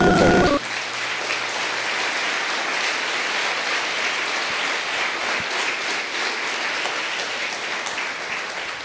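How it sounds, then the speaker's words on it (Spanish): A church congregation breaks into sustained applause after a sermon, a broad even wash of many hands clapping at moderate distance for nearly nine seconds. "Dale un gran aplauso a nuestro Rey, por favor."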